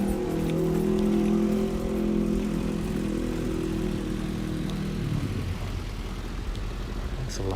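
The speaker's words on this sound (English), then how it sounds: "That's a loud car there." A loud old 1970s car passes on a Tokyo street, its low engine rumble steady and strong for several seconds before easing off toward the end.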